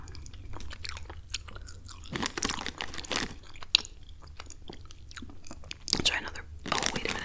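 Close, whispered-quiet chewing of chewy British midget gem sweets, with soft sticky mouth clicks and crunchy bites in an irregular rhythm, louder bursts around the middle and end.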